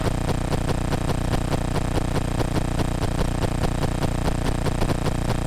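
A Cessna Skylane's piston engine drones steadily in climbing flight, a loud, even, continuous hum with a fast rhythmic pulse and no pauses or voices.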